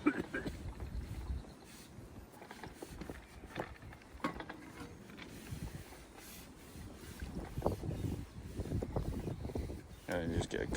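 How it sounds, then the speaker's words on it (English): Wind gusts rumble and buffet the microphone outdoors while float fishing, a low blustery roar that swells and fades unevenly across the scene, with someone talking at times. "And you just get a gust of wind like that, that's annoying."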